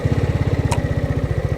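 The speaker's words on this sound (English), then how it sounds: "The sound of the engine" A Zontes 350D motorcycle engine runs at idle nearby, a loud, even low-pitched thumping pulse with a brief higher hiss midway.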